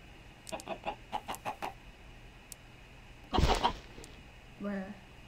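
A chicken in the Minecraft game gives a rapid run of about six short clucks, then a louder scuffling thump and a final drawn-out cluck, all fairly close and clear.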